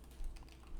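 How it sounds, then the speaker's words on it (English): Soft, quick keyboard typing on a computer, a brief burst of faint clicking taps with no voices. "just typing up something to a friend"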